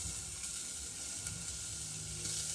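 Garlic hits hot oil in a pan and sizzles with a steady, close, bright hiss that continues evenly throughout with no voices.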